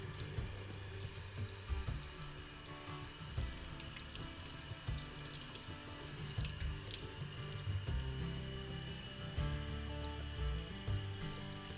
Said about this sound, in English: Now we have the berries rinsed